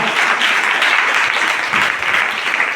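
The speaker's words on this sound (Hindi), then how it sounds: "तो जोर ताली बजाएं" Church congregation clapping loudly during a worship service, a fast, dense and close burst of many hands applauding without pause.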